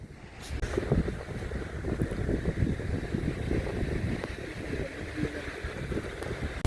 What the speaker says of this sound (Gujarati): ઠંડો પવન દરિયા કાંઠે લાગ્યા કરે